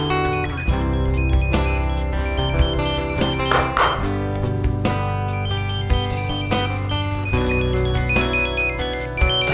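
A mobile phone plays a melodic electronic ringtone that repeats steadily and loudly throughout, close by, with no talk over it.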